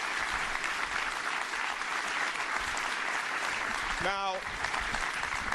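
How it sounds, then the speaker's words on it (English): A campaign rally crowd in Fairfield, Connecticut gives a sustained, loud round of applause with steady dense clapping throughout, and a voice briefly cuts in near the end. "give him a great round of applause for what he's done in his lifetime"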